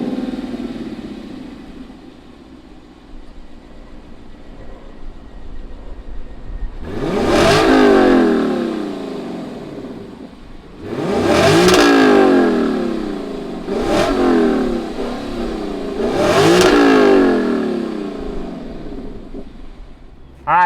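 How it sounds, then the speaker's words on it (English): A 2019 Lexus LC 500 V8 idles with a low rumble, then revs loudly in four sharp bursts that rise and fall, close by with no talking. "But why don't we go ahead, fire up this V8 and see what it sounds like."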